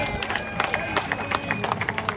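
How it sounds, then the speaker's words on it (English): A stadium crowd applauds at the 2023 SANFL Grand Final player presentation: steady, rhythmic clapping from many hands under a low murmur of crowd noise. "can you keep your round of applause going for the umpires"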